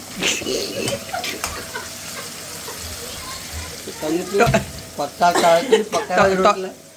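Onions sizzle steadily in a hot pan while a utensil stirs and scrapes in bursts, with people talking over the cooking of vagharelo rotlo.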